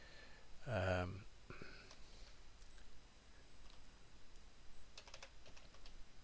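A brief voice is heard at the start, then soft, quick key clicks from a computer keyboard continue faintly in the background, with a small cluster of taps later.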